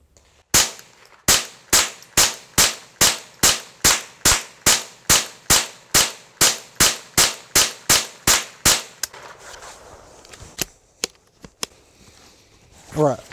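Marlin 795 rifle firing Winchester bulk hollow point copper-plated rounds: a rapid, evenly spaced string of about twenty loud, sharp shots, then a pause, a few scattered mechanical clicks and a brief voice at the end.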